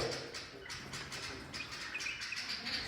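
A flock of bulbuls, twenty or more kept together in an aviary pen, chirps continuously with fluttering wingbeats, a busy, dense chatter heard close up.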